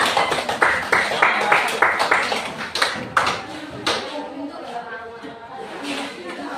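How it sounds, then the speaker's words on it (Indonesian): Classroom clapping for a classmate, a cluster of quick hand claps in the first few seconds that thins into scattered claps, with room noise and faint voices continuing underneath. "Tepuk tangan untuk teman kita."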